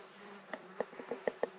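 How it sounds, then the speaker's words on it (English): A fly buzzes indoors close by, heard as several short sharp bursts of wingbeat spaced irregularly over a soft room background, with no talking. "Uh-oh, I let a fly in here. I can hear it buzzing around."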